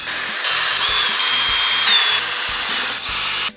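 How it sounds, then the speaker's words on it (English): A power drill whines steadily as it drives longer screws into the wheelie bar parts of a Traxxas Slash/Sledge RC car, running close and loud without pause. "with the drill"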